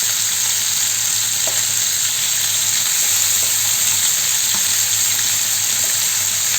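Fish frying Kerala style in a pan of hot oil, a steady loud sizzle running throughout, with a few faint clicks as the pieces are turned over.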